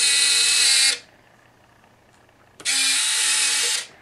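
Retractable landing gear on a scale RC Douglas DC-6B model, with retracts soldered to wheel collars and brass tubes, whines in two separate motor runs with a quiet pause between them, close and steady.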